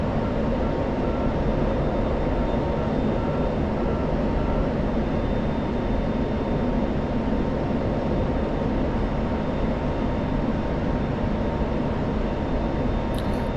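An F-16 jet engine held at military power in a flight sim, a steady, unbroken roar with a faint high whine riding on top, constant and moderately loud throughout.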